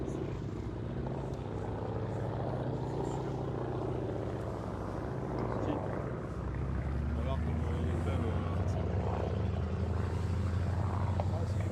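A German WWI Fokker fighter plane from 1917–1918 runs its engine at the La Ferté-Alais airshow, a steady loud propeller drone that deepens partway through, with a commentator speaking over it.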